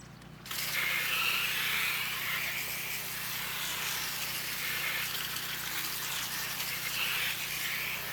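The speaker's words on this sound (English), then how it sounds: "let's go ahead and keep rinsing her down" Hose spray rinsing down a car during a wash and decontamination, a steady broadband hiss of water that starts abruptly after a brief quiet moment and continues evenly at close range with no talk.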